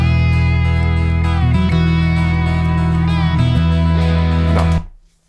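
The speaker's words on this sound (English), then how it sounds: "just listen to the bass on this" Bass guitar on an instrumental studio track plays sustained low notes with a couple of note changes, loud and upfront with other instruments, before the music cuts off abruptly near the end.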